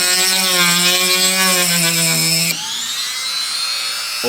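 Harbor Freight power tool cutting, a loud continuous high-pitched whine with grinding rasp that drops to a lower, steadier pitch midway as the load changes, close and alone.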